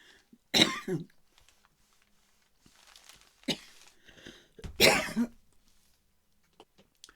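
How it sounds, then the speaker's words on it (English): A person coughs in a short fit: two loud bursts of harsh coughing separated by a quieter throat-clearing cough, close and alone in an otherwise quiet room. "Slight coughing fit, but I think I've survived."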